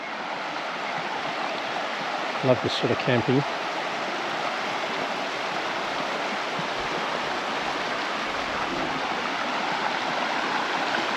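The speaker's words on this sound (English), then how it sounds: "Rivers flowing." Steady broadband rush of a flowing river beside a remote lakeside camp in Tasmania, continuous and fairly close, with someone speaking briefly over it near the start.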